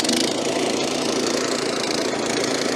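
A Cobra petrol scarifier's engine runs steadily at a loud, even drone, with a rough mid-pitched mechanical rumble held throughout.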